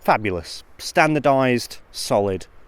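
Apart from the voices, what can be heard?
No everyday noises stand out.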